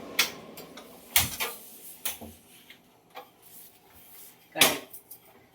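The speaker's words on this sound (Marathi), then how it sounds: "चला आता गॅस पेटवते आहे" A kitchen gas stove is lit with a few sharp, quiet ignition clicks spaced irregularly apart, one sharper snap standing out near the end, all fairly close and with no talking.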